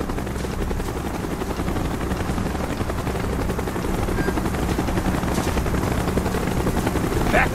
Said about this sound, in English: We got a chopper coming.